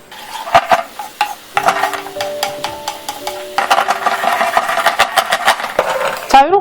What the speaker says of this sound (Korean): 여기에 설탕 한 큰술, 식초를 한 큰술 넣어서 윤기가 나도록 졸여주세요